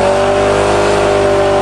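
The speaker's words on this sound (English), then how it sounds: "Give me lots of revs." A Ford Thunderbird engine revs hard, loud and close, holding a steady, strained drone for the whole short stretch, with no voices over it.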